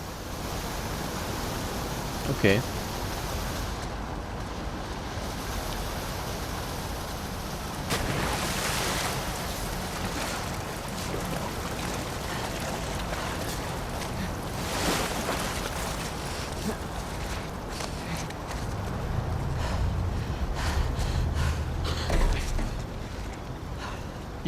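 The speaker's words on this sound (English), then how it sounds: "the player was faced with a fast-flowing torrent of water they couldn't cross" A fast-flowing torrent of water rushing through sewers in The Last of Us Part II, a loud, unbroken roar of churning water lasting throughout, with one brief word spoken over it.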